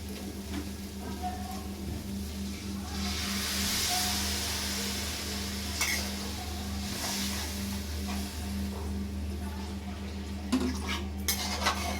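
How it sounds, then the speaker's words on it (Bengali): Water goes into hot oil in a cooking pot for a fuluri dish and sets off a broad, hissing sizzle. Metal utensils clink against the pot over a steady background hum. "এইবার আমি এতে জল দিয়ে দেবো"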